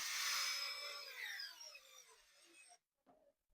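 A cordless screwdriver with a weakening battery driving wall anchors in for a shelf install, a loud whirring drone that slows and fades over a few seconds, then stops, followed by a brief quieter burst.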